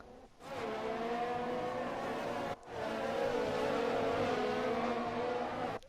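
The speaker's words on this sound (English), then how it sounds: "Carlos Sainz on the back of Lance Stroll with the DRS down the inside into turn 1" Formula 1 race cars in the F1 2020 video game roar loudly through turn 1, engines revving continuously with a brief drop between two cars.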